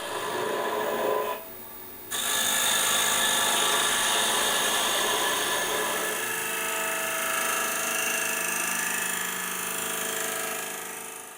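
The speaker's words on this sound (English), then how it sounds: "Push the tool towards the wood and allow the cutter to gently scrape." A TurnMaster scraper cuts wood on a lathe, giving a steady, close rasping hiss with a brief dip in level early on, then continuous scraping that fades slightly at the end.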